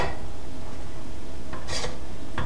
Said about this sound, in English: sanding pad like this to get the colors away